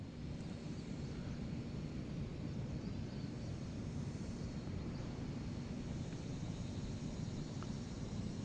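A Holy Stone HS270 GPS drone flies with a steady, faint broadband whir of its motors that continues unbroken, blended with light wind noise.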